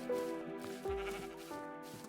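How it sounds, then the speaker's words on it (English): A Minecraft sheep bleats, a grown black-wooled one: a couple of short, nasal in-game bleats at low volume, with a brief thump between them. "He's a grown up sheep now."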